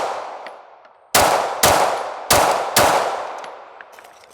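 Pistol shots from polymer-framed and steel-framed automatic handguns, four loud sharp reports in an uneven sequence, each with a decaying outdoor echo, no talking.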